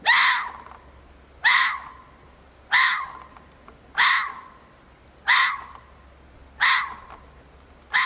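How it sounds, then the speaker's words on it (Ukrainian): A fox's harsh, raspy bark repeats six times at a steady rhythm, each call short and loud against a quiet background. "Та це ж лисиця."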